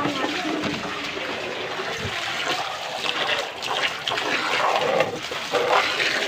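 Water runs and splashes into a basin for a homemade swimming pool, a continuous rushing and trickling pour, close and fairly loud, with voices speaking over it.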